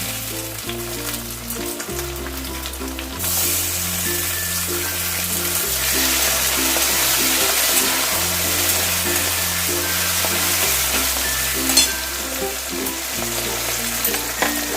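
Onions browned deep red and chopped tomato frying in a kadhai for kadhai chicken: a steady, dense sizzle that persists throughout, with occasional stirring, beneath tonal background music.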